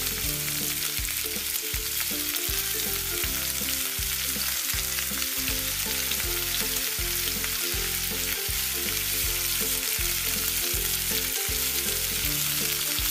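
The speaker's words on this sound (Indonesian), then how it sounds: "Goreng kroket di minyak yang sudah panas, goreng sampai matang atau menjadi keemasan" Cassava croquettes frying in hot oil, giving a loud continuous sizzle that stays steady for several seconds, close up, with no talking.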